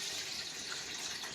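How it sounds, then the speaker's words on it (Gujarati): Water pours steadily into a steamer pot of lemon water, set up to steam soft besan khaman. It is a continuous, even splashing hiss with no voices. "તો ત્યાં સુધી આપણે પાણી એડ કરી દઈશું કતેડીમાં લીંબુવાળા."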